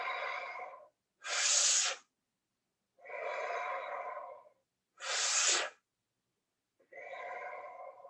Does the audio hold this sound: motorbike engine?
no